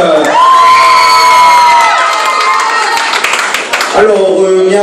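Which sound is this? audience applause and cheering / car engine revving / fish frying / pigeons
audience applause and cheering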